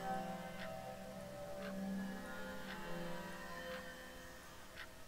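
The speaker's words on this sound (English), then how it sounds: "Very accurate clock sounds" Faint, steady ticking of a clock in the video game Clock Simulator, about one tick per second, soft and regular over a low electronic hum.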